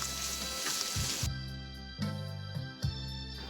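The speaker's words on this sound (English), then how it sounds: "Let's fry all these vegetables along with the sausages very well." Goan sausages and vegetables sizzle loudly in a pan over a high flame, with a few sharp stirring scrapes breaking up the steady frying hiss.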